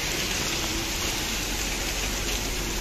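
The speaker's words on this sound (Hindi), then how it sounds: "बहुत खतरनाक ओले" Large hailstones pour down in a dense, unbroken roar, loud and close and steady for the whole stretch.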